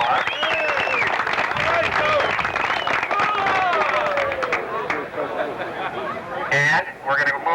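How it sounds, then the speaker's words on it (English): A crowd at a City of Monroe event claps for the parks director, dense steady applause with cheers and chatter, tapering off before a voice speaks briefly near the end. "I think you all deserve a round of applause."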